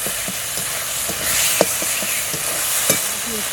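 A paste of coriander, cumin and dried chilli fries in hot oil with a steady sizzle and hiss. Now and then a spoon clinks as it is stirred, close up and without talk.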